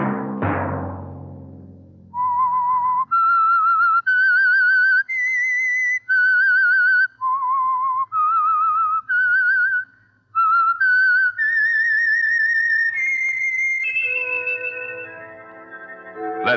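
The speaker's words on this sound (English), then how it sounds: "Let that whistle be your signal for the Signal Oil program, The Whistler" A solo whistled theme tune for The Whistler radio mystery show, a clear, bright melody of sustained notes that ends in a rising, sliding phrase.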